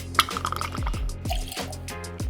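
Dolin Dry Vermouth is poured from a bottle into a jigger for a cocktail, a short run of glugging, bubbling liquid sounds with several descending gulps, close and clear, with no talking.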